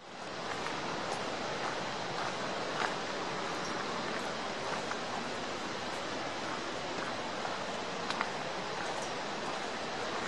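Toketee Falls, a waterfall in Oregon, roars steadily as a dense, constant broadband rush of falling water, loud and unbroken throughout with no voices heard.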